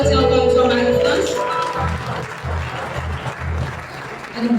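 Clapping from the congregation for Marie-France at a Pentecostal church anniversary celebration, fairly loud at first then thinning, with voices and low rhythmic thumps underneath.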